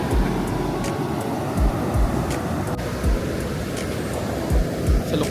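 Strong ocean waves crash on the shore, a steady roaring wash broken by several deep thumps as the surf breaks, loud and close with no voices.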